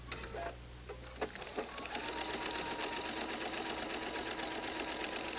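A sewing machine stitches a quilt block in a steady, fast mechanical patter that starts after a few handling clicks and then runs on evenly, close up.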